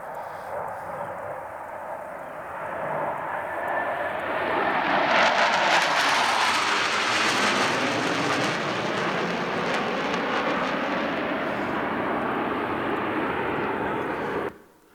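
Blue Angels jet aircraft pass overhead at an air show, a broad roar swelling loudly over several seconds, sustained and sweeping, then cutting off near the end.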